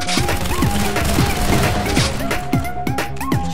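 Trench shotgun blasts in the Roblox Arsenal video game, several loud booming shots spaced through a busy, dense game soundscape with tonal effects sounding between them.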